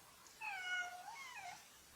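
A black stray cat gives a single drawn-out meow, faint and at some distance, rising and falling over a quiet background.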